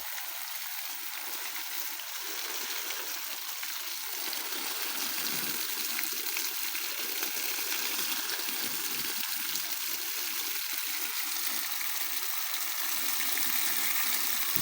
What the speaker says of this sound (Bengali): বৃষ্টি হলেও এত পানি দেওয়া সম্ভব না যেভাবে পানি দিচ্ছি